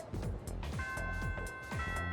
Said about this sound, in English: First bell has rung.